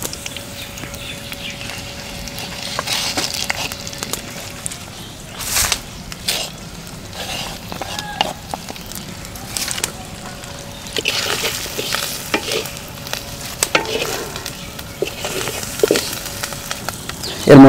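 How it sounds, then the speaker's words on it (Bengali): Whole spices and ground chilli, coriander, turmeric and salt fry in oil in a pan, giving a steady crackling sizzle broken by scraping stirs and occasional clinks, continuous and fairly close with no talking. "তারপরে এগুলো আমি তেলের সাথে কিছুক্ষণ যাবত আমি ভেজে নেব।"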